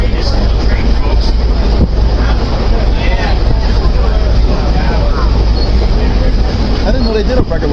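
Union Pacific 4014 steam locomotive pulling a single car on the Reading and Northern, a loud, steady rumble with heavy wind buffeting the microphone and voices talking over it throughout.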